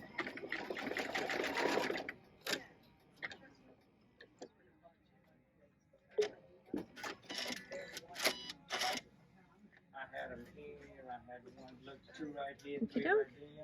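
A sewing machine stitches a long buttonhole in fast, close bursts of rapid ticking, broken by pauses and soft handling clicks, while a person talks in between.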